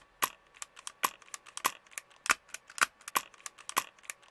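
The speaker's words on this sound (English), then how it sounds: "And now this is the noise of the hammer hitting with the foam." An MK23 airsoft pistol's hammer strikes a foam-padded slide in a run of eight sharp, fairly soft clicks, roughly evenly spaced about half a second apart, close and alone.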